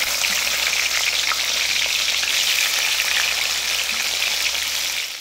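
Onions frying in hot oil in a kadai, a loud and steady sizzle that holds for the whole stretch, with no talking over it.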